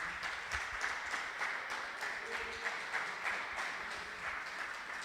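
A church congregation claps along in rhythmic worship during a Friday service, a faint, steady patter of many hands heard at a distance.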